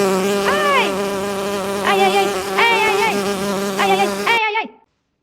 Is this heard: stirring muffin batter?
no